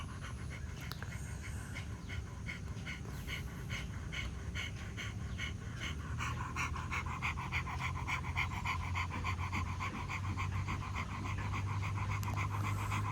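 Rapid rhythmic breathing from a pranayama exercise done outdoors in a public place, a fast, steady panting of quick breaths that continues without pause, fairly soft against a background hum.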